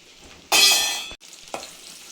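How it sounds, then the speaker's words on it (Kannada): Finely chopped onion dropped into hot oil for a mushroom sambar, a sudden loud burst of sizzling that fades over half a second, then a quieter steady fry with a brief stir clack. "ಎಣ್ಣೆ ಕಾಯ್ದೈತೆ ಒಂದು ಎರಡು ಸ್ಪೂನು ಈರುಳ್ಳಿ ಹಾಕ್ತಾಯಿದ್ದೀನಿ ಸಣ್ಣಗಚ್ಚಿರೋದು"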